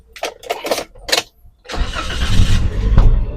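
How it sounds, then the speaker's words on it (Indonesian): A 2018 Toyota Avanza G with a manual gearbox: a few short mechanical clunks, then the engine starts and settles into a steady, fairly loud idle close to the microphone. "Kondisi mesin benar-benar halus, nggak ada PR sama sekali"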